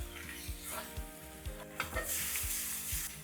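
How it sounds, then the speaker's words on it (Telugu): Eggs frying with masala in a pan, a steady close sizzle broken by rhythmic scrapes and taps of a spatula stirring against the pan about twice a second. "ఎగ్స్ని ఇలా చేస్తూ వేగనివ్వాలి అన్ని వైపులా మంచిగా మసాలా అంతా ఎగ్స్కి అలా పట్టుకుంటుంది"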